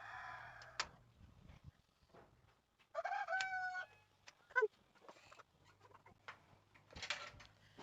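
Chickens and a rooster in an open poultry yard with perches at an animal sanctuary, the rooster crowing clearly mid-clip amid scattered clucks and short calls over a low background hum, no talking.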